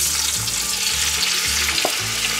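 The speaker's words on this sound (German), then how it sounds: "Und dann wissen wir auch, dass es warm wird, wenn man es brutzeln hört." Chopped vegetables sizzle and fry in a hot Dutch oven on a kitchen stove, a steady close hiss of frying with a few stirring scrapes and low clunks throughout.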